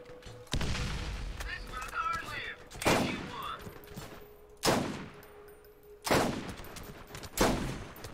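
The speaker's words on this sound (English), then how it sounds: "I'm just gonna hop out and shoot him." Gunfire in Borderlands, a video game, comes as several sharp, loud shots spaced a second or two apart, each ringing out briefly over a low steady hum of game sound.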